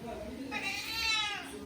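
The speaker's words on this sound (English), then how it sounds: "What are you meowing at?" A pet cat meows in a kitchen while someone cooks gnocchi, the cry drawn out and rising over a steady low background, with a person speaking nearby.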